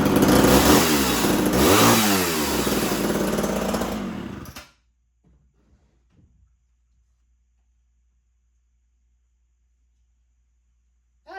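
A 1979 Homelite Super XL chainsaw runs loud and close at high revs for about four seconds, its engine note wavering as the throttle rises and falls, then it cuts out abruptly, leaving near silence.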